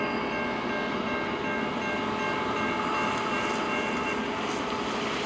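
A CN eastbound local freight train rolls past with a steady, loud rumble and clatter, tonal droning lines running through it, continuous from start to end.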